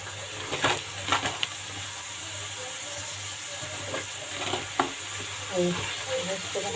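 Butter sizzles steadily in a hot pan with pastrami, a constant frying hiss broken by occasional stirring scrapes and small pops, close up with no talk.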